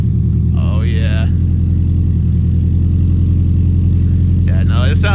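A Subaru BRZ fitted with new headers and an ISR single-exit catback exhaust gives off a loud, steady low engine drone, with a couple of short bursts of talking over it.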